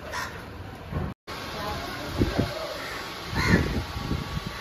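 Several crow caws ring out, loud and near, over steady rushing wind and rain noise of a nor'wester storm, with a brief dropout partway through.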